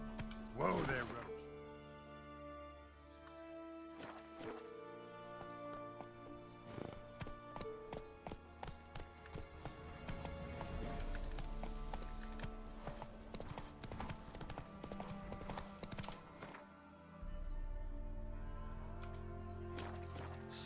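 Roach, the horse in The Witcher 3, clip-clops along with steady hoofbeats, moderately close, under a voice and game music.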